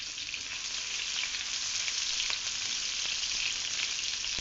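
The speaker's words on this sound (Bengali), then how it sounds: "এবার আমি পেঁয়াজ বেরেস্তা করে নিচ্ছি।" Sliced onions fry in oil until crisp, a close, even hiss of sizzling with small crackles throughout and no voices.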